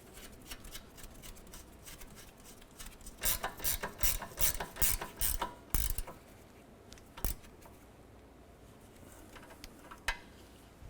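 A hand ratchet tightens the nut on a rear sway bar end link during a strut replacement on a 2008–2012 Honda Accord. Fairly quiet, with quick bursts of crisp clicking pawl strokes in the middle, then a few isolated clicks.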